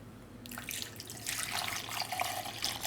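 Water is poured into a paan sharbat mixture in a kitchen, a soft, continuous splashing trickle that starts after a moment and grows a little fuller, quiet and close, with no speech.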